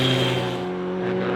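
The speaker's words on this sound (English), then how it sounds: "historic Formula Ford car" A historic Formula Ford race car in a qualifying session at Castle Combe, its engine droning with a steady, tonal note, loud and close with no voices.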